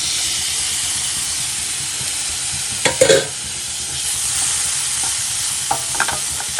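Chopped tomato goes into a pan of frying masala for spicy macaroni, giving a steady close sizzle and hiss with a few stirring scrapes and clatters partway through.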